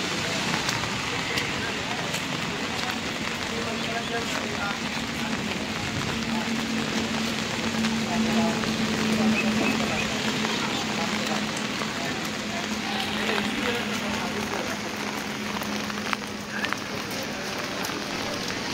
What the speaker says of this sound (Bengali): ভালো বৃষ্টি হচ্ছে এখানে।